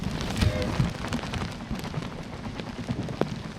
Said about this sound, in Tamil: தொடர்ந்து 4 மணி நேரமாக அங்கு கனமழையானது பெய்து வருகிறது